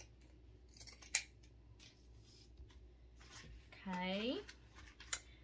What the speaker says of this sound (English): I'm just gonna kind of trim it up on this side.